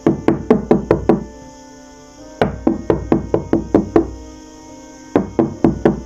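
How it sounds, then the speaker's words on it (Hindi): Three bursts of sharp, loud knocking on a door, each a quick run of about five to seven raps with short silent gaps between the sets, in a Hindi horror cartoon setting. "दरवाजे पर दस्तक होती है।"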